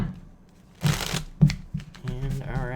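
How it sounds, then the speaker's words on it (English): Tarot cards shuffled by hand in short bursts of crisp riffling, with a pause between them, close up and at moderate volume, while a voice talks quietly between the shuffles. "2 more shuffles here."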